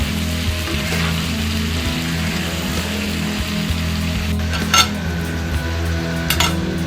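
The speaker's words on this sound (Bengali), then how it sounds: "এরপর 5 মিনিট আবারও এগুলো খুব ভালোভাবে নেড়ে চেড়ে ভেজে নেব।" Mixed vegetables for a Chinese-style curry frying uncovered over high flame, a steady loud sizzle with a spoon scraping and clinking against the pan now and then, and no talking.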